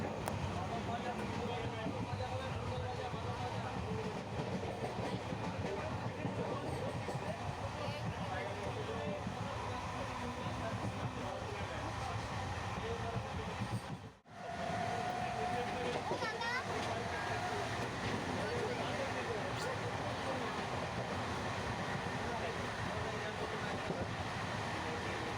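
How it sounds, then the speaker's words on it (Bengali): A passenger train bound for Suri rumbles along in a steady, loud roar heard from inside the carriage. There is no distinct clickety-clack, and the noise dips briefly about halfway through. "আর আমি ট্রেনে যাচ্ছি।"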